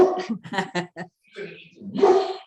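A dog barks in a quick burst of several sharp, close yaps, followed after a short pause by a longer whining bark, loud and alone.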